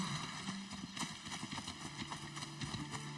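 Horse hooves clip-clop in a steady trotting rhythm in Assassin's Creed Odyssey, moderately loud and close, with no voices over them.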